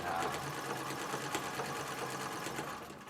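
A Singer 66 treadle sewing machine in a parlor cabinet stitches steadily, its rapid mechanical clatter running at an even rhythm, close and fairly loud, with no voices.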